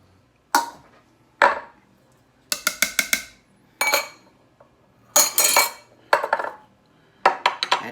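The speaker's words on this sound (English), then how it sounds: "At this time I'm going to stir it." A stick of butter is stirred into mashed potatoes in a pot, heard as loud metallic clanks and scraping knocks of a utensil against the pot, coming in irregular bursts and quick repeated strikes with quiet gaps between.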